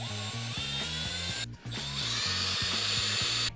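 A power driver removes 2.5mm screws from the crossbar of a Traxxas Sledge RC truck, giving a close, continuous whirring buzz with a stuttering ratchet-like pulse and two brief pauses.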